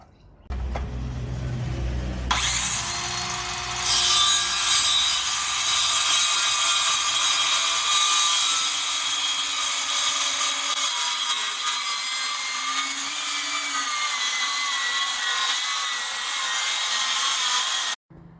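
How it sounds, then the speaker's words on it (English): Borrowed circular saw cutting wood at a 45-degree bevel along a template for a keezer collar, a loud, steady high whine that starts after a brief low rumble and runs unbroken for about fifteen seconds, no talking. "on my circular saw, well, my borrowed circular saw, it's got a little notch for 45"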